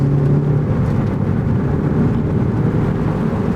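A stock 2018 Ford Focus ST accelerating hard around a race track turn, a loud steady engine drone heard from inside the car with no talk.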